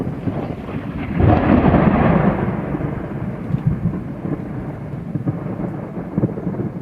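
Thunder from nearby lightning strikes during a storm, a loud rolling rumble swelling after the first second and then fading into a long, low grumble under light rain.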